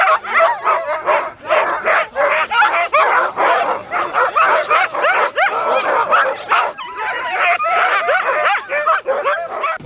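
Sled dogs bark, yip and whine continuously at a sled dog race in Savoie, a dense chorus of many dogs close by with overlapping barks throughout.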